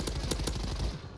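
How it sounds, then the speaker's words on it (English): Rapid bursts of video-game gunfire in Plunder mode, several sharp shots in quick succession over a steady background, fairly loud and close. "Sounds like shots."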